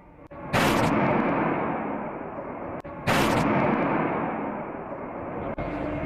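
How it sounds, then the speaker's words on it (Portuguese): Heavy gunfire during a robbery shootout in Campinas, with two sharp loud blasts followed by long echoing decays, heard from a distance outdoors. "Olha lá, os tiros não param, gente."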